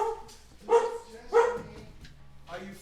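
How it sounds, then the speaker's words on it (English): Dogs bark nearby in a few separate sharp woofs spaced about half a second apart, followed by a quieter yip and a softer final bark. "No barking."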